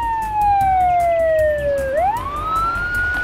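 A police car siren in a children's cartoon, heard as one loud, clear wailing tone that glides steadily downward, then swoops back up and holds high, with no voices over it.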